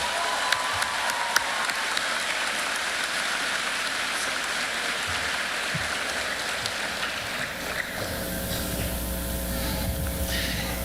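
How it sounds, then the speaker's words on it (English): Dense, steady applause from a large audience at a high school graduation ceremony, sustained throughout with a slight shift in tone near the end. "Let's give them one more round of applause."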